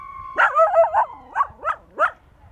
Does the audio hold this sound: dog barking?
yes